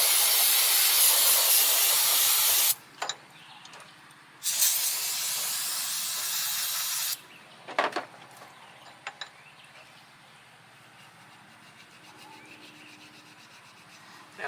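Water spraying into an emptied cylinder of a John Deere V-twin engine with one dead cylinder, heard as two loud, steady hissing bursts of a few seconds each, followed by quieter scraping and rubbing.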